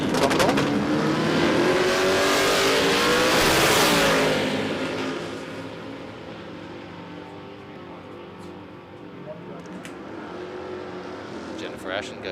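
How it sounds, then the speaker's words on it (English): Drag race engines from a Ford Prefect and a Commodore roar loudly at Willowbank Raceway, a sustained heavy rumble that swells and then fades over several seconds, with a commentator talking over it. "hit on the track for Andrew King today, and he's in the Autobahn Hyperdome Ford Prefect up against Jennifer Ashen in the Commodore"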